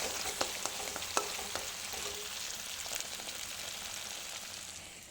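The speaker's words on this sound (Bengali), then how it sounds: "গ্যাসটা আস্তে করে দিয়ে অনেক করে নেবে কষাতে হবে" A spice paste sautés in a pan over a low gas flame, giving a steady, moderately loud sizzle broken by occasional stirring scrapes and small pops.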